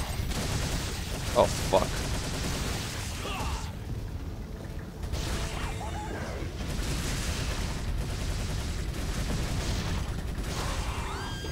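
Gunshots in the Resident Evil 4 video game, bursts of loud firing and mechanical clatter running across the scene, with a man swearing briefly over the action.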